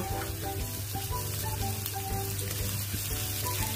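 Spices and dried fenugreek leaves fry in a pan for fish curry, a steady close crackling sizzle over a low kitchen hum, with a few faint tonal beeps in the background.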